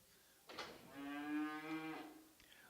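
At a calf and stocker cattle auction at OKC West, a bovine lets out one sustained, fairly low moo of about a second and a half, clear against a quiet background.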